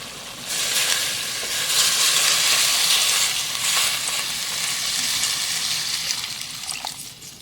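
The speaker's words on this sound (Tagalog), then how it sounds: "So, lagyan na natin siya ng tubig." Water is poured into a pot of boiling chicken tinola, giving a loud, steady, hissing rush with a sizzle to it that keeps going for several seconds before easing off.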